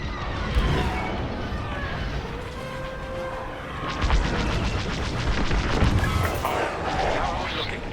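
Rapid laser cannon fire from starfighters in a Star Wars Squadrons space battle, a dense, continuous rattle of blasts over a roaring engine and explosion backdrop, intensifying midway.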